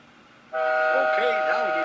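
A train horn sounds steadily with layered tones, joined by a rising engine drone and rhythmic rumbling from a moving locomotive in Microsoft Train Simulator, loud and close.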